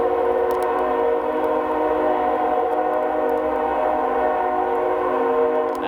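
A train rolls past on the railway at night, a steady, loud rumble with dense layered tones holding throughout, wind carrying the noise closer.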